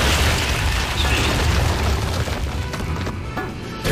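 Grenade explosions in the Gears of War video game, a dense, loud burst of booming blasts and mechanical rattling filling the whole stretch, with a brief dip before the rumble resumes.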